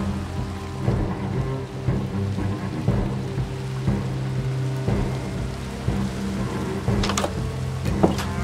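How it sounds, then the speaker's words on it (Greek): Steady rain falls in a Minecraft game world, a constant patter with a few sharper crackles and low rumbles near the end, with no voices over it. "Η βροχή δεν έχει σταματήσει."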